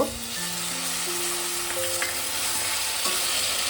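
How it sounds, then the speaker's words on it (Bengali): Paneer stirred and fried in a pan for paneer Manchurian, giving a steady close sizzle with light scraping stir sounds running throughout, no voices. "পনিরটাকে দিয়ে একটু নাড়াচাড়া করে মিনিট 2।"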